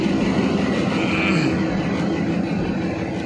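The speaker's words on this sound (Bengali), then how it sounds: "সেই টয় ট্রেনে সফর করবো আজকে, ডিজেলে চলে।" An old diesel toy train on a narrow-gauge line, heard from on board as a steady, dense rumble of engine and rolling wheels, moderately loud and continuous throughout.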